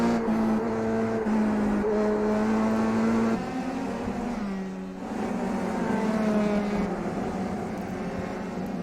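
An F3 race car engine in the iRacing sim at Lime Rock Park, a loud continuous tonal whine rising and dropping through gear changes and a dip as the car brakes for a corner.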